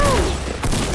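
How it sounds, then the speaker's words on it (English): A dense, loud burst of gunfire in a chaotic Fortnite match fills the whole second, a continuous booming rattle of shots with a brief whistling sweep at the start. "I shot him in the head, dude, as he's drinking a potion."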